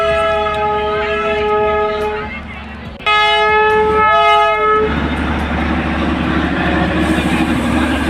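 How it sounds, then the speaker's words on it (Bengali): A Darjeeling toy train passes on the Batasia Loop: long, loud whistle blasts, one bending in pitch midway, over the steady rumble of the moving train. "এখন আসছে বাতাসিয়া লুকের ওপরে টয় ট্রেন।"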